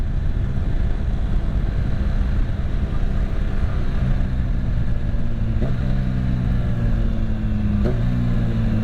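A 2021 Kawasaki Ninja H2 SX SE+ sport-tourer with a quick shifter and an ECU flash rated at 240 horsepower, its engine droning loudly and continuously up close. Two brief shifts break the drone near the end.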